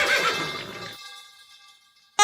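A horse in the Roblox Brookhaven game gives a loud, close whinny that trails off into a thin fading tone, followed by silence and a sudden sharp burst at the end.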